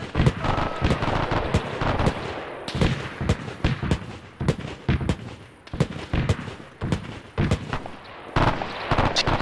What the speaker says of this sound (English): Is that an anti-air cannon or is that an armored vehicle with an anti-air cannon on it? Oh, it's some an auto cannon.